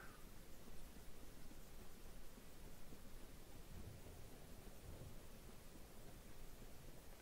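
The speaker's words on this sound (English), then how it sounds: "That thunder." Thunder rumbles through a steady rain-like roar in the Dark Souls Remastered video game, a dense, continuous low wash with no distinct single crack, moderately loud throughout and no talking.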